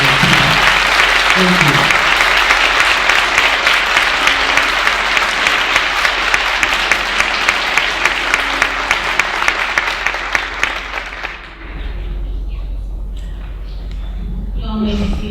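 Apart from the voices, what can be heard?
audience applause for young people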